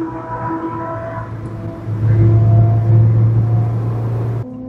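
Mazda MX-5 driving on the Nürburgring, a steady engine drone that swells louder for a few seconds as the car passes, then drops away abruptly.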